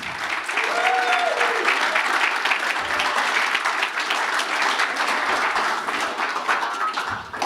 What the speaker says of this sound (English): Big round of applause to Tonda and the team, guys